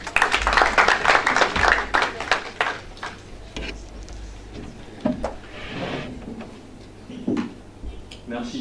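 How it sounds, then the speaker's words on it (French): An audience at a French-language debate applauds a speaker: a burst of dense clapping for about three seconds, then scattered single claps and a few quieter spells as it dies out. "Je vous applaudissons."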